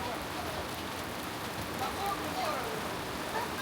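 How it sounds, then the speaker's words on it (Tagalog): Steady rain falling on a Moscow street, a dense, even hiss of drops hitting pavement close by, continuous and moderately loud throughout. "It's raining in Moscow."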